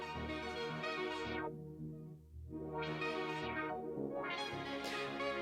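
A synth-heavy electronic track passes through a Waves OneKnob filter, its sweeping cutoff repeatedly closing down to a dark, muffled low end and then opening back up to a bright, full mix in slow rhythmic waves.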